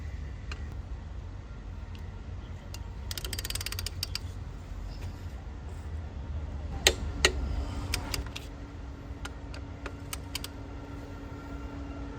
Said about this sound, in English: use your torque wrench to tighten these bolts to 100 Nm.